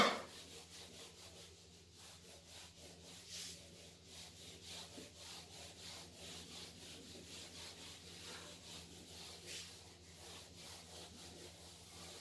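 Rhythmic scratchy rubbing strokes on a classroom board as writing is wiped away, repeating back and forth at a steady pace, quiet and close, with no talking.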